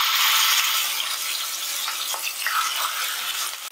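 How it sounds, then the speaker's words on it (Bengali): Hilsa fish pieces fry in hot mustard oil in a kadai, a loud, steady close-up sizzle with bubbling crackle that eases slightly toward the end. "এবার আমি তেলের মধ্যে দিয়ে দিচ্ছি মাছগুলোকে।"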